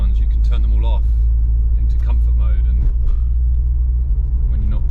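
A Ford Escort Cosworth produces a steady, deep engine rumble while driving, heard from inside the car under continuous talk.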